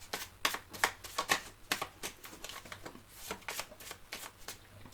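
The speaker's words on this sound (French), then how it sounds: "on va prendre le jeu de cartomancie pour faire les 9 cartes" A deck of cartomancy cards shuffled close up: a quick series of crisp riffling bursts with short gaps, steady throughout, with no talking.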